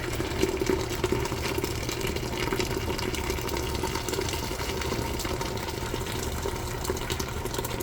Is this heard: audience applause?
no